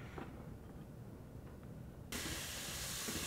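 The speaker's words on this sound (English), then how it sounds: "So these vegetables are sauteing." Vegetables sauteing in a pot for turkey rice soup give a soft, steady sizzle and hiss that jumps suddenly louder partway through and then holds, with no talking.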